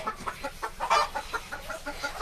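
Chickens cluck in a steady run of short, rapid notes, a small flock nearby with one louder squawk in the middle.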